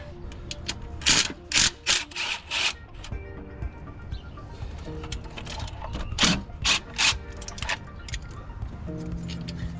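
A ratchet works loose the fuel rail bolts on a 1994 Ford F350 during a head gasket job, with bursts of quick clicking strokes in two clusters and quieter metallic handling between them.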